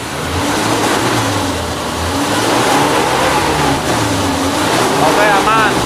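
A 1994 Suzuki Realvan engine revs steadily and loudly up close, a continuous mid-pitched drone with a brief rise near the end, and voices speak faintly beneath it.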